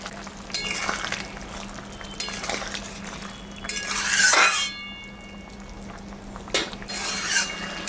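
Prawns tossed into a pan and stirred while a prawn and banana-flower curry cooks, with repeated scraping clinks of a spoon against the metal pan and a soft sizzle beneath, all close and moderately loud.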